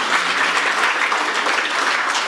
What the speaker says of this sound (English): Let's give Teresa a clap